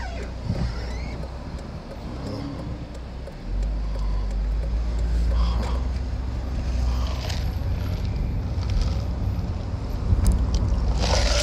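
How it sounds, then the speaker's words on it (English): A bus pulls up to drop off a child, its engine rumbling steadily nearby and growing louder midway, with wind and traffic noise around it and no talk. "Bus dropping off a little kid there."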